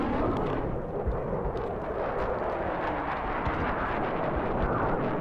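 Loud, dense roar of aircraft passing overhead in the video game Black Mesa, a continuous rumbling wash that stays heavy and steady throughout with no voices.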